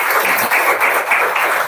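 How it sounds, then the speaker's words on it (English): Brief, loud burst of audience applause welcoming a guest speaker, dense close clapping held steady for under two seconds. "we'll invite sir with a warm round of applause"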